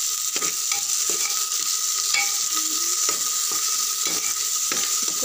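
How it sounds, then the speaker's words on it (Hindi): Onion frying in a pan with cumin seeds, cooked until light pink for a potato and pea sabzi, gives a steady, close, dense sizzle with sharp scraping clicks from stirring scattered throughout. "इसको मैं हल्का पिंक होने तक भूनूंगी"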